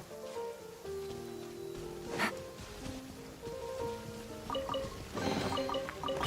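Rain falling in the video game Genshin Impact, a soft, steady patter of drops blended with quiet tonal game music, with a few brighter splashy bursts rising out of the wash.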